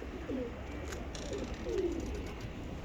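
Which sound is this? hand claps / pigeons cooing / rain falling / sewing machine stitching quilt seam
pigeons cooing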